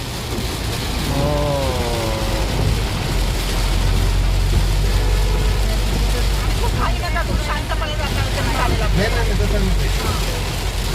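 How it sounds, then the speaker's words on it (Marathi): Heavy rain pours steadily on the way to a temple visit, making a dense, loud hiss throughout, with a voice talking over it and traffic sounds mixed in. "हे बघा काय डेंजर पाऊस आणि सगळं"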